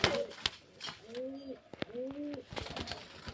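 Murshidabad deshi Giribaz pigeons at a home loft give two soft, close rolling coos, with shuffling, flapping and rustling around them and someone talking quietly nearby.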